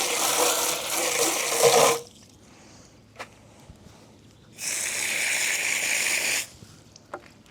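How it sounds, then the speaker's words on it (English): A muddy harvest basket is rinsed under running tap water, two loud gushing bursts of a couple of seconds each, separated by a quiet gap with a few small knocks and drips. "I should wash the basket out. It's so muddy."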